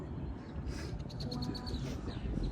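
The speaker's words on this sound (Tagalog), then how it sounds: "May ibon!" A bird gives a quick series of faint chirps against quiet outdoor background noise near Blue Mountain, Ontario, with no talk over it.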